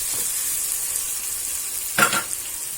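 Masala for onion and okra sizzles and fries in oil, a steady hiss with one brief stirring scrape partway through.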